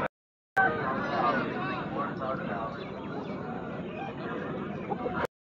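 A Kaki Dega rooster, about 3.5 to 4 kilograms, clucks at a busy poultry market, its calls close and mixed with steady crowd noise while someone talks over it throughout.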